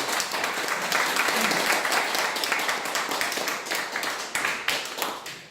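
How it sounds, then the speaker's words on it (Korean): An audience at a Korean lecture on Donghak, national studies and national reunification gives a strong, steady round of applause for the lecturer, dense clapping throughout that thins slightly toward the end, with no speech over it. "감사의 마음으로 힘찬 박수합니다"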